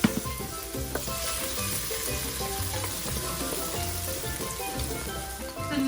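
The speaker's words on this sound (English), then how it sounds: "we add a bit of our Italian herbs. Just to fry out in the oil" Italian herbs fry in oil for a moussaka sauce, a loud, close, steady sizzle and crackle with occasional stirring sounds throughout.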